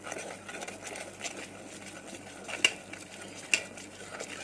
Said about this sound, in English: You can actually feel it when you are stirring with the spatula.